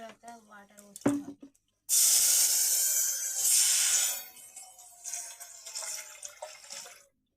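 Water poured into a hot pot of chicken curry for biryani, a sudden loud hissing rush that fades into bubbling, after a voice speaks briefly.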